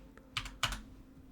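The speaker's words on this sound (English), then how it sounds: "Typing Toru." Typing on a computer keyboard, a couple of quick close key clicks in a short burst, faint and otherwise quiet.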